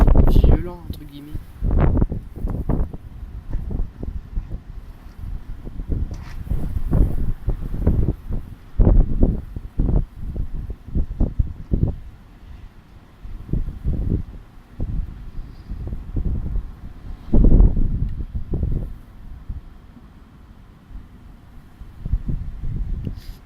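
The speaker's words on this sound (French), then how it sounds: "les rafales de vent" Strong storm gusts in Pernois batter the microphone in heavy, irregular low rumbling bursts that surge and drop repeatedly, close and loud, with quieter lulls between blasts.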